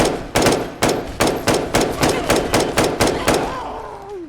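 Rapid video game gunfire, about a dozen sharp, evenly spaced shots in quick succession, loud and close, with a faint whooshing tone rising at the end.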